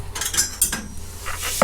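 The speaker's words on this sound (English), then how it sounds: "let's get those in the frying pan" Food clatters into a metal pan with sharp scraping and clinking, a quick burst of kitchen noise.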